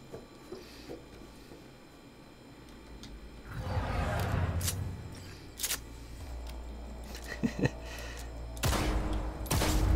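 Gunfire at a tactical target practice program in the video game Cyberpunk 2077: scattered sharp shots and bursts crack out over a busy background, with heavier clustered firing in the second half.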